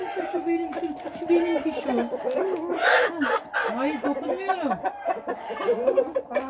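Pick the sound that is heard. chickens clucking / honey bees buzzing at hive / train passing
chickens clucking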